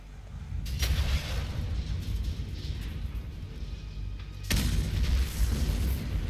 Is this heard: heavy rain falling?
no